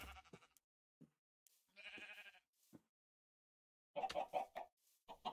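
Chickens on a video game farm clucking and squawking in short, scattered bursts separated by silence, fairly quiet, with a busier cluster of calls near the end and no speech.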